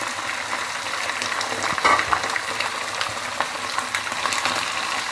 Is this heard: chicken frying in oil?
yes